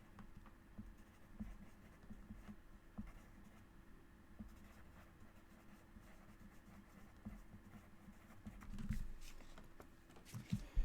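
Pencil scratching on an index card, quiet and intermittent, with soft strokes and faint taps recurring through a low background hum.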